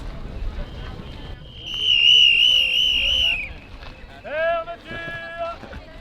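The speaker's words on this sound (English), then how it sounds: "these guys run around with whistles when it's time to leave" Park wardens at the Luxembourg Gardens in Paris blow whistles at closing time, a long shrill warbling blast followed by shorter whistle bursts amid background voices and outdoor ambience.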